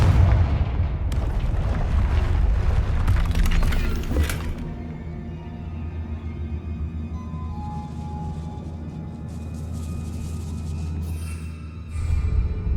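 Confringo blasting-spell explosions in Hogwarts Legacy: heavy booming bursts and crackling impacts for the first few seconds, then a lower rumbling tail, with another burst near the end.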